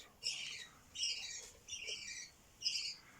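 Budgerigar chicks give four rasping, high squawks in separate bursts with short gaps between them, close but fairly soft.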